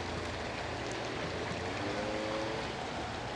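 Water pouring out of holes drilled through rocks into a koi pond waterfall, a steady broadband rush and splash that stays close and constant throughout with no talking.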